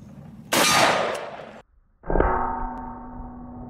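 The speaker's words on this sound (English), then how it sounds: "Today we're gonna shoot oxygen tanks." Two loud gunshots from a .357 Magnum Colt Python fired at a pure oxygen tank. The first is a sharp crack with a rough tail, and the second is a ringing metallic clang that hums as it fades.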